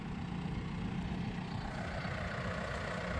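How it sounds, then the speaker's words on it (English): A John Deere 3032 compact tractor on an Alaskan farm runs with a steady, low diesel drone, faint and constant with no change in pace, and no one talking. "Been a great little tractor so far."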